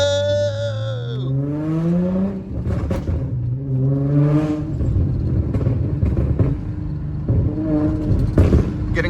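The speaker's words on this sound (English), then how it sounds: "Getting a lot of more burbles." An Infiniti G35 with a full-bolt-on exhaust drones and revs while driving, rising and falling in pitch with loud, crackly burbles and pops on the overrun, heard from inside the car.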